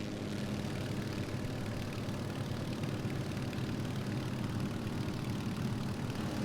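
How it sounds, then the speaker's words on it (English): Jet airliner engines roar in a low, steady, continuous drone at an Atlanta airport in Microsoft Flight Simulator, with no talking over the sound. "I am still hearing engine roar."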